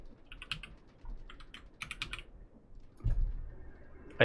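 Fingers tap a computer keyboard while entering text in a terminal, giving scattered clusters of light, close clicks with short pauses between bursts and a heavier thump near the end.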